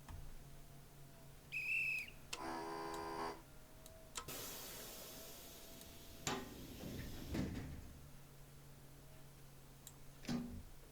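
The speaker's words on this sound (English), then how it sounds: "come on, guard. Blow the whistle, we're off." In the SimRail train game, on the Lodz to Warszawa route with an EN57 unit, a guard gives one short, shrill whistle blast before departure, followed by clattering, door-like thuds and mechanical noises.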